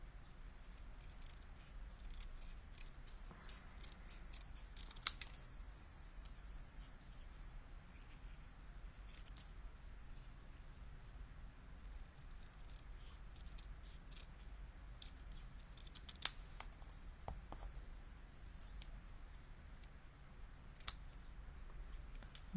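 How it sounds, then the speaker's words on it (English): Scissors snip through card at a craft table, with sharp cuts standing out near 5, 16 and 21 seconds above a quiet, steady room background; nobody speaks. "We'll just try trimming this up."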